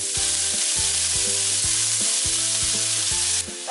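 Onions sizzle and fry steadily in hot cooking oil in a pan, a loud continuous crackle with no talking over it.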